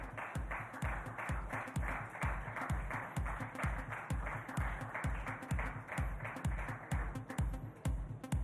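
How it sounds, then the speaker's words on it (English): An awards ceremony audience, the Sportstar Aces Awards, applauds continuously with dense clapping and steady rhythmic beats, sustained and fairly loud throughout, with no voices over it. "Big round of applause, ladies and gentlemen."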